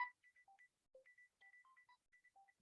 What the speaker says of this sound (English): Sorry, that's my phone going on.